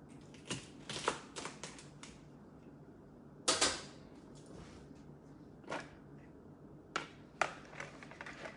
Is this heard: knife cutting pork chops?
yes